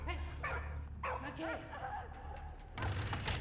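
A dog barks and yips in the World War I video game Valiant Hearts: The Great War, several short excited barks and whimpers over game music, with someone talking through them.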